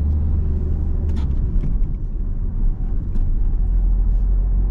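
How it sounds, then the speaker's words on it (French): A learner driver's car accelerating and shifting into third gear on a night driving lesson near a roundabout, heard as a steady low engine rumble from inside the cabin with slight changes in pitch, no talking. "Vas-y, on accélère, hein, je te le dirai après. Et on met la 3."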